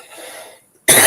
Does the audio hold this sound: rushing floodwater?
no